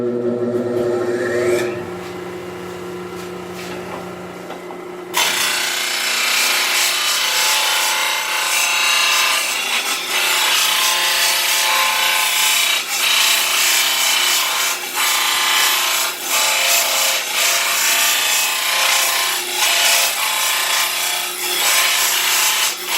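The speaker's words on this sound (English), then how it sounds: "we can sharpen one end and then turn it around, sharpen the other end" Steel stock for homemade Jeep tracks is filed or ground to a point, a loud, continuous harsh rasping that starts after a quieter lead-in and runs steadily with brief dips in intensity.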